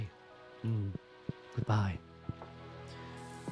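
Green Rain weather event in Stardew Valley 1.6: a soft, steady patter of rain runs under chiming game sound effects, with a brief spoken word.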